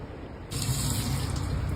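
Tap water gushes onto a frozen ice cream mould, a steady close splash that starts abruptly and keeps running without a break.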